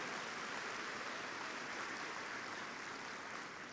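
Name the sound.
audience applause for school counselors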